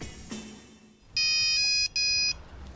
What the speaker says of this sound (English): but then the phone rang again.